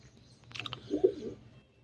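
A pigeon gives a soft, brief coo close by, preceded by a faint chirp, against a quiet background.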